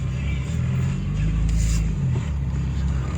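A car drives along the road with a steady, loud engine rumble and low drone close by, holding throughout while someone talks over it.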